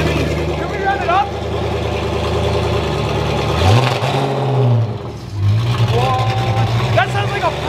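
Ford GT with a full catless valvetronic exhaust revving hard, with loud throttle blips and crackling pops up close, the engine dropping and climbing again, while excited voices talk over it.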